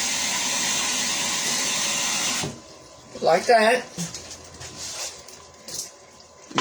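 Steady rushing hiss of water pouring for a couple of seconds, then it stops and a person speaks briefly with light clatter.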